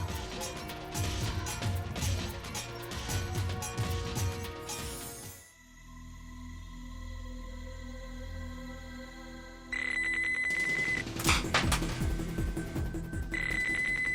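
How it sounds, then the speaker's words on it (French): Music and a crash give way to a low drone, then a bright electronic phone ringtone chimes in repeating tones over the noise. "c'est juste ma nouvelle sonnerie"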